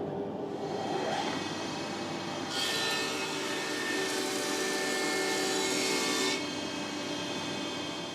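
An iTech 260SS planer thicknesser runs steadily with a loud, constant motor drone, and a harsher cutting roar swells for a few seconds in the middle as a board feeds through in thicknesser mode.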